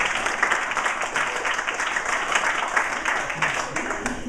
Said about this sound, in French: Merci, on l'applaudit très fort,